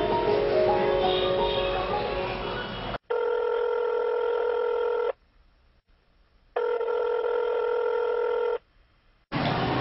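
Telephone dialing tones sound in two steady bursts separated by short silences, clear and close, after a stretch of background noise.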